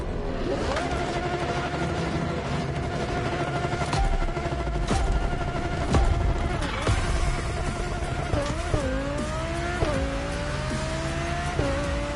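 An Audi luxury racing car engine drones steadily in The Crew Motorfest video game, a continuous loud engine tone with rising pitch sweeps as it accelerates and shifts, mixed with music and game effects.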